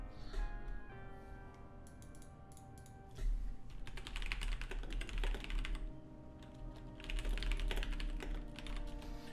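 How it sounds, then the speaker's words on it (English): Rapid clicking of computer keyboard typing during an online poker final table, close and moderately quiet, with bursts of keystrokes over a faint steady electronic hum. "Stop typing right now."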